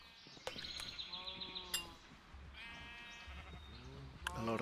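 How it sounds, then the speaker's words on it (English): Sheep bleat repeatedly inside a Minecraft barn full of farm animals, several wavering calls overlapping at moderate loudness over a steady background hum. "A lot of good cows, a lot of good sheep."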